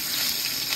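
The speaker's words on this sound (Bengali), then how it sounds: "ওই দেখো মাছ, এই যে দারুণ দারুণ ভাজা চলছে" Pieces of fish frying in hot oil, a steady close sizzle with crackling hiss that runs without pause through a brief moment.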